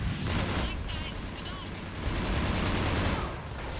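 Gunfire in the video game Mass Effect 3: dense, loud, continuous bursts of weapon fire and blasts from a combat mission, with voices mixed in.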